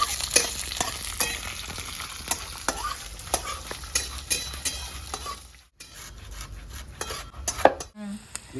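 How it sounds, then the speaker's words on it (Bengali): Whole spices (dried red chillies, coriander seeds, cumin, black peppercorns, cinnamon, cloves and cardamom) crackle and sizzle in hot oil, with frequent spatula scrapes and clinks against the pan and a brief pause partway through. "একটু ভাজা ভাজা হবে।"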